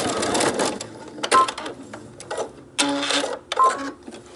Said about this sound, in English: go to the sewing machine and you're going to stitch across each shoulder using a 1/4 inch seam allowance